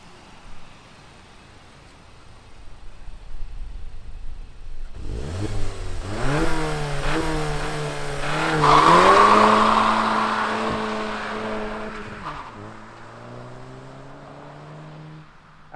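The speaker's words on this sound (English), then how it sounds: "let's fire up this Golf GTI and hear what it sounds like" A 2021 VW Golf GTI with a 6-speed manual starts up with a loud bark, then its engine revs up and settles through several rising and falling pitches before easing back to a steady idle, heard close by.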